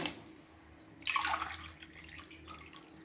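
Water is poured into a pot of mutton biryani in a short splashing stream lasting about a second, then trickles and fades, nearby and fairly soft.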